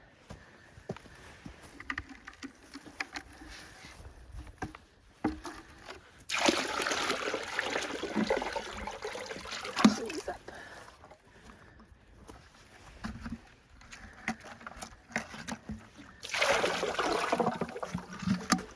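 Water poured into an animal water dish on a cold day at a farm with geese, two bursts of splashing flow, each lasting a few seconds, separated by quieter moments with brief speech.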